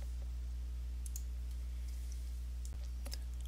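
A few light, sharp computer mouse clicks, faint over a steady low electrical hum, the clearest coming near the end.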